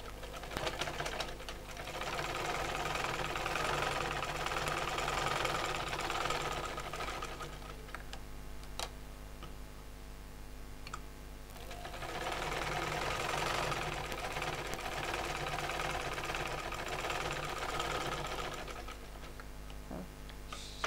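A sewing machine runs in long steady bursts while stitching a divider salwar with kali panels. Its close, even whirring hum stops briefly at about 7 seconds, picks up again and carries on to the end.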